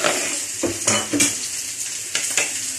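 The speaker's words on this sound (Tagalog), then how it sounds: "Magigisa na tayo para sa ating fish steak." Fish steak sautés in a hot pan with a steady close sizzle, broken by a few scraping stirs and clinks of a utensil against the pan.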